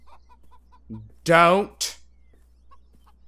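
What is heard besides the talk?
chickens clucking in video game Beyond Eyes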